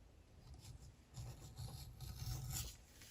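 An Owden edge beveler, straight out of the box and unsharpened, shaves along a wooden edge with a soft, continuous rasping scrape that swells in short strokes and grows a little louder toward the end.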